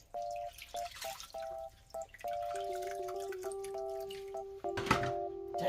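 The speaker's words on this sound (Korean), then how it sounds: "이런 노란물이 안 나올 때까지, 많이 맑아질 때까지 씻어 주셔야 돼요" Boiled dried radish greens are washed in a sink, with water splashing and sloshing steadily against a faint tonal hum and a louder splash near the end.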